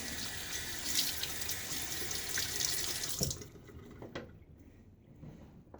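A tap runs water to rinse after a wet shave, a steady hiss and splash that cuts off after about three seconds, followed by a few faint drips and clicks.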